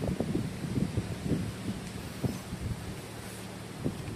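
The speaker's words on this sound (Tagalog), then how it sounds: "Grabe, ang lakas ng hangin." Strong wind roars steadily through trees on an open rocky hiking trail in Macau, with low gusty rumbling buffeting the microphone and a few irregular thumps.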